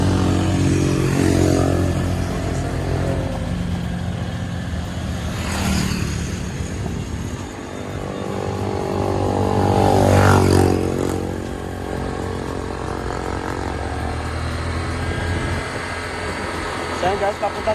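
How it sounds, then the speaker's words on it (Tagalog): A motorcycle engine hums and revs steadily on the move, rising and falling in pitch with passing traffic, over constant road and wind noise. "Magdadrive na ako ng motor."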